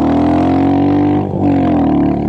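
A Royal Enfield Mongoose 350 with a Baxter Custom Works pipe and DNA air filter idles loud and close, a steady throbbing exhaust note with one brief dip midway.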